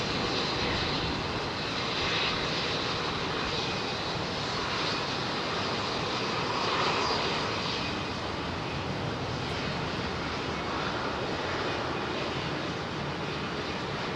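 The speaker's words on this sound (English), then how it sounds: "Talk about high aspect ratio wing, that's one right there with Embraer's E2" An Embraer E2 jet departs London Heathrow Airport from runway 27R, its engines roaring as a steady, broad, fairly loud rumble that holds evenly throughout.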